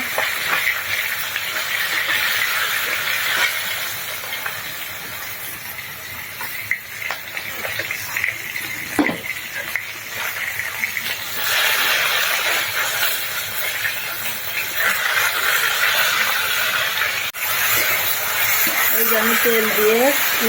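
Fish frying in oil in a pan on a home stove: a steady, loud, dense hiss that keeps going for about twenty seconds, with a faint voice near the end.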